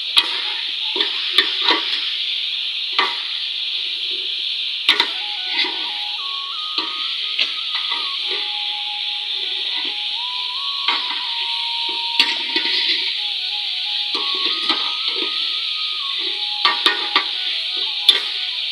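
Steady sizzle of a curry (salan) cooking in a pot, with a spoon repeatedly scraping and clinking as it is stirred and mixed, close and continuous.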